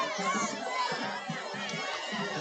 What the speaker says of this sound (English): you can feel the energy in the stadium here. It is loud.